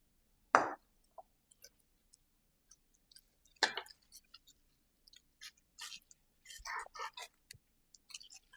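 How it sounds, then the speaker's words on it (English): Raw chicken being cut up on a kitchen surface for Jamaican chicken soup: sparse close knife thuds, faint taps and wet squishy contact sounds spread irregularly through quiet. "Okay, now I'm going to cut up the chicken."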